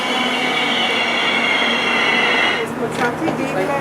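A double-decker passenger train pulls into a station in Israel with a loud, steady rolling rumble and high metallic wheel whine that eases toward the end, heard close up.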